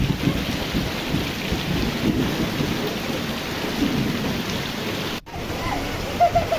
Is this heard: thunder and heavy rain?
yes